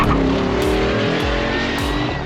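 A 490-horsepower LS3 V8-powered Porsche 911 accelerates hard, its engine roaring loud and close with rapid gear changes and a brief tire chirp.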